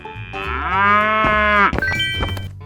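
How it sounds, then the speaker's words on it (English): A cow moos once in a 3D animal slide video game, a long, loud, drawn-out low moo that ends abruptly. A few faint game effects follow it. "Cow."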